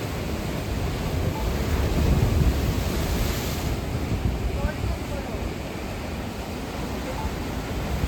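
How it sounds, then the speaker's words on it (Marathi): Steady roar of sea waves washing onto the shore, with a broad surge swelling and fading under gusty wind noise. "लाटा इकडे किनाऱ्यात येऊन आदळत"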